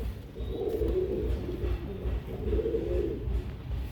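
Lal Gajre Tenali pigeon, a male, cooing in two long rolling phrases, close and steady, with no one talking over it.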